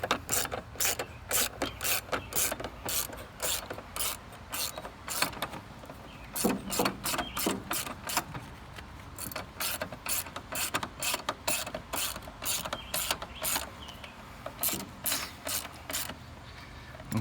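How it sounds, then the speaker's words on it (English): A 1/4 inch drive ratchet works the battery bolts on a 2016 Lincoln MKX, with rapid bursts of close, crisp clicking in repeated strokes and short pauses between them. "I'm just using a 1/4 inch drive for all this stuff."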